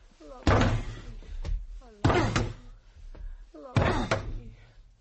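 A locked door in a horror radio drama is banged three times at even intervals, each hit loud, heavy and close, with a voice heard faintly between the blows.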